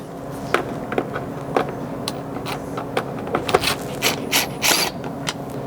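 Phillips head screws backed out of a rear interior cover on a 100 Series Land Cruiser, close small ratcheting clicks and scraping taps in irregular bursts, with no talking.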